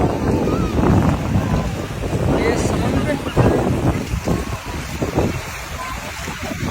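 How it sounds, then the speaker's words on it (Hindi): Sea waves surge and wash at a Mumbai beach, loud and rolling under heavy wind buffeting, with people talking over the surf. "बड़ा लहर है, गीला हो जाएगा।"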